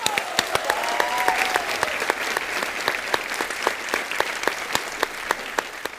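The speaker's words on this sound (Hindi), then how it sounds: "जोरदार तालियां हो" A studio audience at a Hindi TV comedy show claps enthusiastically, with a dense, even wash of applause and a few sharp individual claps standing out.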